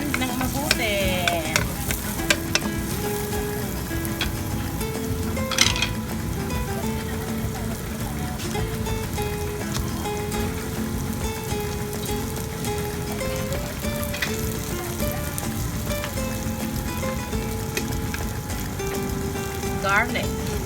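Ginger and onions sauté in a pan for a Filipino chicken tinola, a constant close sizzle and crackle with occasional scraping stirs, while a voice speaks now and then over the frying.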